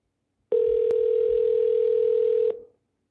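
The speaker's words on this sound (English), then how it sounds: "It's just dialing." A telephone line gives a steady single-pitch dial tone during an outgoing call, loud and close for about two seconds before it cuts off abruptly.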